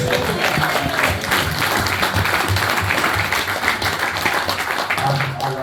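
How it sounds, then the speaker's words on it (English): Audience at a Moonraker-themed event applauds, a dense steady roll of many hands clapping fairly close, mixed with murmured crowd noise and sustained throughout. "Give a round of applause."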